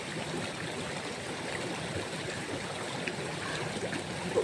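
Stream water flowing over large rocks, a steady close rushing and gurgling wash with no pauses.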